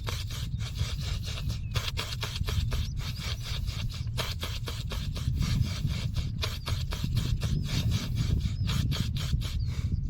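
Fingers rub back and forth in a fast, regular rhythm during pranayama breathing practice, a close, dry scraping sound repeated steadily with no talking.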